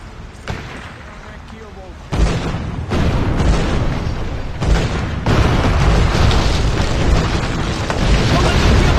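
Cannon fire from a keelboat in a video game booms in heavy, loud blasts, several distinct bursts in sequence amid sustained battle rumble, with voices talking over the action.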